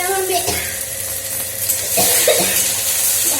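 Potatoes and okra frying in a pan, a steady close sizzle with scraping stirs, partly under a voice talking.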